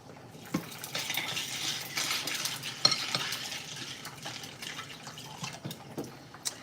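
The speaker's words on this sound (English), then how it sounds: "Put some ice on this." Ice being added to papaya salad in a bowl: a busy run of clinks, rattles and wet scraping with small knocks against the bowl, close by and moderately loud, with no talking.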